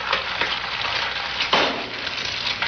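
An egg frying in a frying pan, as in a 1987 anti-drug PSA, gives a steady, close sizzle. A brief crackling burst near the middle suggests the egg hitting hot oil, and no voices are heard.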